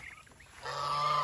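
A loud white turkey gobbling call comes in about halfway through, a sustained raspy honking over quieter bird noise before it.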